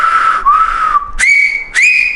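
A person whistles a few sustained tones, a long wavering note followed by two higher, steady pitched notes, loud and close with no speech.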